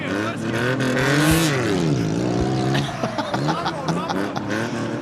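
A tuk tuk engine revs hard at the Thai Grand Prix, its pitch climbing and dipping in sweeping waves with a raspy, buzzing tone, loud and close while voices talk over it.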